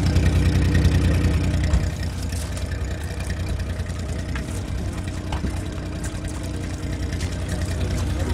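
A used 2007 car with a freshly rebuilt engine idles at the Namangan car market, giving a steady low rumble throughout with faint background chatter.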